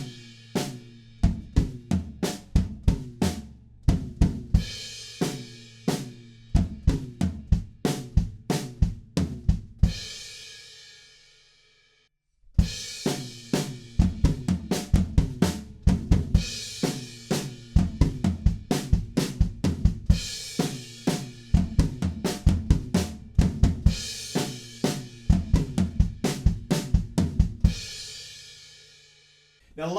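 A drum kit plays a song's groove with kick drums and hand patterns, in steady, punchy hits running through two passes split by a short pause, played close without talk.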